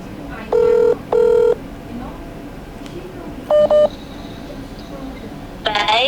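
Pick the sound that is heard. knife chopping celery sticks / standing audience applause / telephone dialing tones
telephone dialing tones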